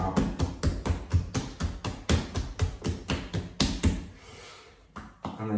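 Sourdough bread dough is knocked back by hand on a work surface, a close, rapid series of regular slapping thumps that runs for several seconds before slowing to a few softer pats.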